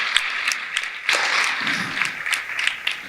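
A church congregation breaks into applause, a dense wash of many hands clapping in a large room, steady and moderately loud for a few seconds, with faint voices mixed in.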